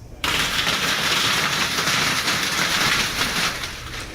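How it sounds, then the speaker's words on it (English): Hail pounding down during a severe storm in Arkansas, a dense, steady rattling clatter starting abruptly and continuing loud and unbroken throughout, with no voices. "As you can hear, that system also dropped hail on Arkansas."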